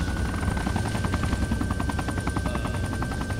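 An ARMA 3 video game helicopter runs with a loud, steady engine roar and rhythmic rotor thumping, its engine whine holding a constant tone throughout.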